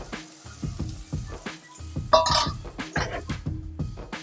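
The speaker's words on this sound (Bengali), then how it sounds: "তো এখন আমি এটা কড়াই দিয়ে সাবুটাকেও দিয়ে দেব।" Small sago pearls go into a hot kadai for sabu khichdi, giving a close sizzle with rhythmic scraping and light clinks of a utensil against the pan.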